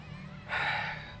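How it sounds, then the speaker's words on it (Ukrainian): A single heavy breath drawn during a pause in an outdoor no-equipment full-body workout, one close rushing gasp of recovery breathing after quiet, with no talk. "відновлюємо дихання, пульс уже 150"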